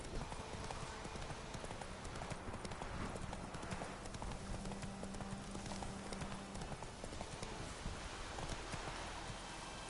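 Horse hooves clip-clop at a gallop in a PS4 video game, a rapid continuous rhythm over a dense wash of rain-like noise, fairly faint overall.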